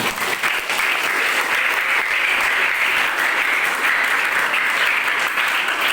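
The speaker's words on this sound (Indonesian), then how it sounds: "Tepuk tangan dulu yang depan dulu." Audience applause at a school guidance event for teenagers held at a vocational high school, a dense, steady clapping from a seated crowd lasting several seconds without a break.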